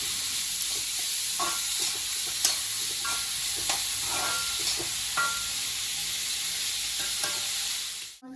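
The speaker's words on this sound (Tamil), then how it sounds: "இப்போ வெங்காயம் வதங்கியாச்சு." Onions sautéing in a pan for crab gravy, a steady broad hiss with occasional stirring scrapes and soft clicks throughout, close and continuous, ending abruptly.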